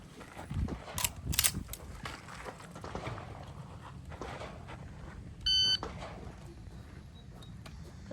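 A single sharp electronic shot-timer beep sounds clearly at a USPSA competition shooting stage, after several seconds of quiet outdoor shuffling and faint scattered noises.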